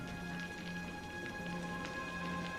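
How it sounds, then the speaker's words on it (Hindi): Steady rain patters on a surface with scattered drips, a constant wash of noise and a faint hum underneath. "रात भर मूसलाधार बारिश लगातार होती रही।"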